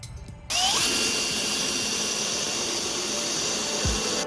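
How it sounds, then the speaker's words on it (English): A power drill fitted with a filing bit grinds steadily through a hole in a van's metal body, a loud continuous whine starting after a brief moment of quieter noise and holding without pause. "I'm gonna use this drill tip filer with this drill to file the rest of the hole."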